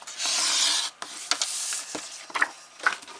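A blade slices through a stack of three sheets of thick card stock during papercraft for a star-shaped Valentine's album: a long, steady rasping stroke, then shorter scraping cuts and small taps, close and clear with no talk.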